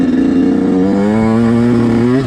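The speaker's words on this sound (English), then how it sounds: "we have a nice and snappy bike here" Dirt bike engine on a motocross track revving with a steady, loud, close buzzing tone that climbs slightly in pitch, running continuously and alone, with a snappy aftermarket top end.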